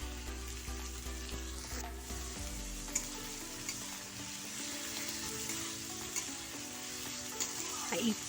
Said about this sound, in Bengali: এগুলো সব দিয়ে আমি এটাকে ভেজে নেব লো ফ্লেমে 2 মিনিট